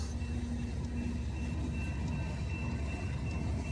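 A graffitied Norfolk Southern locomotive rolls past, giving a steady, loud rumble with a low hum and constant rail noise that holds for a few seconds.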